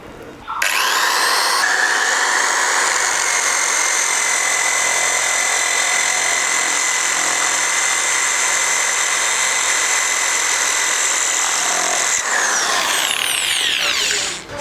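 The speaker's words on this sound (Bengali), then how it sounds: "তো ইটটা ফুটো করে দেখাই" A Buildskill electric drill bores into a brick, its loud, steady whine holding for around twelve seconds with a grinding edge before winding down, heard alone with no talk.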